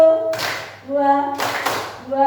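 Children in a classroom clap their hands on a teacher's count, two bursts of claps separated by a short gap, with the teacher's voice speaking between them.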